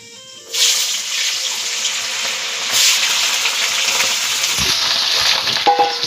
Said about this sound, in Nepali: यो आलु भुट्छु पहिला।